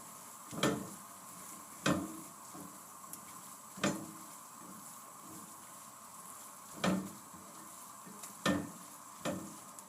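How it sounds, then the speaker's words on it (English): Food being stirred in a cooking pot: a quiet background hiss broken by a handful of sharp, separate scraping knocks of a utensil against the pot, spaced every second or two. "Stirring it."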